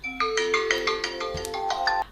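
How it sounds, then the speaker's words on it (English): A mobile phone ringtone plays indoors, a bright repeating melodic chime of several notes sounding clearly on its own for about two seconds with no talking. "I do apologise for my phone ringing."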